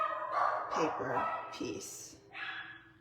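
Dogs bark in a few short yelps in the background, somewhat distant, while someone talks over them.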